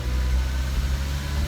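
A Porsche Cayman engine idles with its engine cover removed, giving a steady, close, low rumble that holds even throughout with no voices over it.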